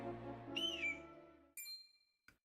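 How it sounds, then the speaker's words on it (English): A bird calls in the video game Triangle Strategy, a clear descending whistled note followed by a short, brighter chirping cry and a brief final click, set over a low musical tone. "I hear a bird."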